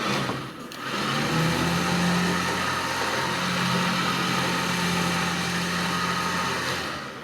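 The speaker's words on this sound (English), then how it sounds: "Just want to show you how well this winch works." A 12,000 lb ZXR Badland electric winch runs with a steady, close motor whine and hum that holds for several seconds after a brief start, with no talking.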